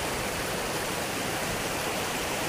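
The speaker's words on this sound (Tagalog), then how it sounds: "Umaagos ang tubig guys" Water pours steadily down Laktas Falls, a dense, unbroken roar of rushing flow that stays loud and even from start to finish, with no voices over it.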